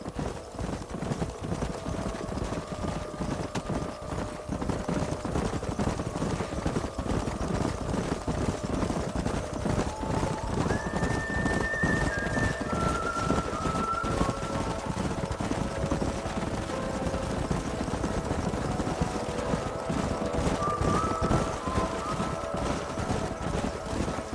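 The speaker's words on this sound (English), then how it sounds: "Stay with the horses." A herd of horses gallops in Red Dead Redemption, their hooves pounding in a dense, continuous clip-clop rhythm, with wind rushing over it and faint tonal game sounds drifting in.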